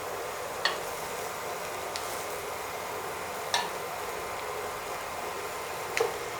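Fried okra being stirred into a frying masala in a pan, a steady sizzle underneath with four sharp, spaced scrapes of a spoon against the pan, close and without talking.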